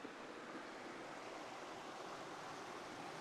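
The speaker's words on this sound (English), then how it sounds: "here's a closer look at the creek from right behind the car" A creek flows right behind a parked car at a campsite, a steady, even rush of water that fills the whole stretch without any voices.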